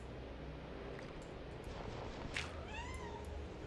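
A pet cat gives a couple of faint, short meows against a quiet room hiss, rising and falling near the end.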